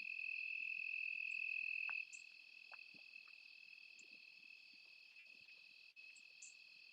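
Evening crickets chirp in a steady, continuous high trill, one loud nearby at first, then softer layered chirping continues with faint scattered background noises.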